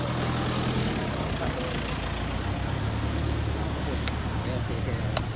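A diesel engine idles steadily after super cool additive is poured in, having earlier belched black smoke; a constant low rumble runs throughout with faint clicks above.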